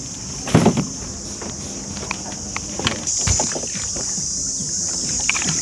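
A round basket boat rides on the water in Hoi An, Vietnam, with light paddle splashes and knocks over a steady hiss of wind and water, recorded up close.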